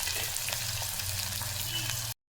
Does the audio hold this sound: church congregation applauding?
no